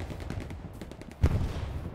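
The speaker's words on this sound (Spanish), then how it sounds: "pero estoy escuchando tiros" Distant gunfire rattles through a Hell Let Loose World War II battlefield, with scattered muffled shots and one heavier close burst near the middle, all under an ambient rumble without speech.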